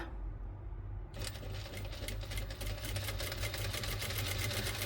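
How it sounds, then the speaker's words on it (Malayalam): Sewing machine running steadily as it stitches along the edge of a piece of fabric for a partywear garment, a close, continuous rapid whirring hum with no talking. "ഇനി ഇതാ ഈ അരികു വശത്തു കൂടെ നമുക്ക് സ്റ്റിച്ച് ചെയ്തെടുക്കാം"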